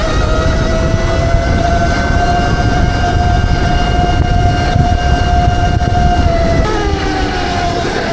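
A drone flying flat out in sports mode gives a loud, continuous high-pitched whine of spinning propellers. The tone holds steady, then dips and shifts near the end as the drone passes. No voices are heard.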